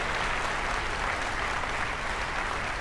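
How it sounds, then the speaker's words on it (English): Steady, dense applause from a theater audience fills the whole stretch, a continuous wash of many hands clapping at even loudness with no voices standing out. "Listen to the applause."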